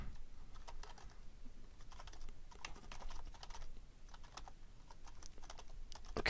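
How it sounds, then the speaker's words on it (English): Steady, close typing on a computer keyboard, with continuous soft key clacks and small bursts of faster keystrokes over a faint background hiss, and no voices. "I'm just going to type."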